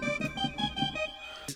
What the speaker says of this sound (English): Really kind of like Halloween-y synth.